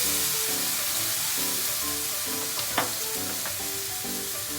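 Soy sauce sizzling in a hot frying pan, a loud, steady hiss with rhythmic stirring scrapes and one brief clack, close and without speech.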